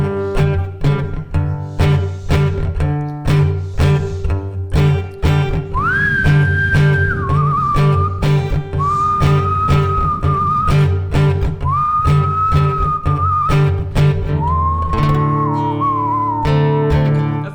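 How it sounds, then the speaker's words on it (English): A person whistles a melody in long held notes over a loud strummed acoustic guitar accompaniment. "I don't know if whistling is gonna work."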